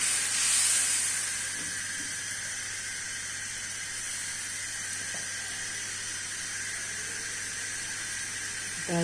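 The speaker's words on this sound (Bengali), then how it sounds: "এখন আমি একটু মশলাটা আলুর সাথে কষিয়ে নেব।" Spices and potatoes fry in a pan for a Bengali tengra fish and potato curry, giving a steady, close sizzling hiss that runs unbroken throughout, louder at the very start.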